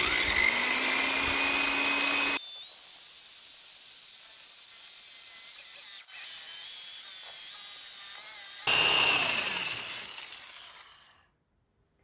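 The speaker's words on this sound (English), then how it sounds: "I'm going to drill a starter hole, and I'll use the jigsaw to finish it off." A power drill bores a starter hole for a jigsaw cut with a loud, high whining spin. The sound drops to a quieter, steady grinding run, surges again, then winds down to silence.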